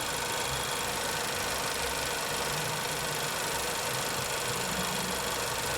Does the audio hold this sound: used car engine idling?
yes